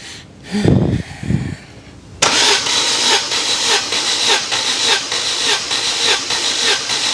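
A warm Mercedes 190E fitted with twin Weber 45 carburetors cranks on the starter for a compression test, a rapid rhythmic churning that runs steadily after a few short, muffled thumps at the start.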